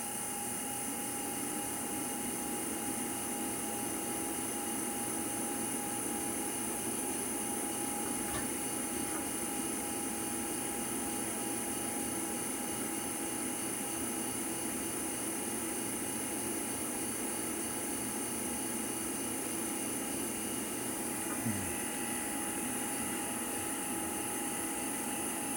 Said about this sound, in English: It will vacuum it down.